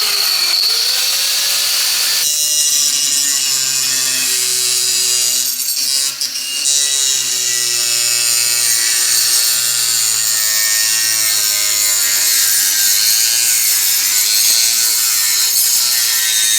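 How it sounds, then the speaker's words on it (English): An angle grinder fitted with a toothed saw blade cuts wood while building a DIY sand muller for a home foundry. It gives a loud, continuous, close whine with a rough, rasping edge and shifting pitch, and no talk is heard. "tooth saw blades in the angle grinder"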